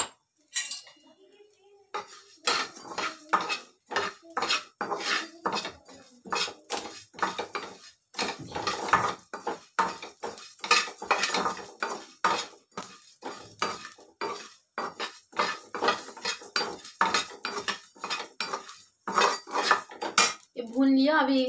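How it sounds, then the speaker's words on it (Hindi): Fenugreek seeds being dry-roasted in a pan give steady, rhythmic scraping and clinking as a metal spoon stirs them, close and continuous with no talking. "थोड़ा सा मेथी, इसको भून लेंगे।"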